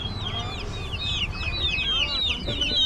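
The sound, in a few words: chickens clucking at tribal market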